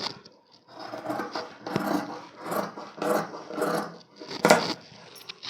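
Scissors cut blouse sleeve cloth in a tailoring setting, making a series of rasping, crunchy snips in rhythmic bursts about every half second, close and moderately loud, with no talk.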